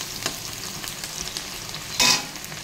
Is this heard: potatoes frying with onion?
yes